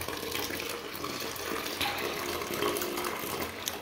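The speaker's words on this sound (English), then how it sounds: "I'm gonna wash the drum first before I start" Running water gushes and splashes steadily against a car's metal brake drum as it is washed, a continuous close rushing spray with no talking.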